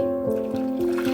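Steady trickle of water pouring into a cooking pot for onion rasam, a continuous liquid stream with faint gurgling, close by.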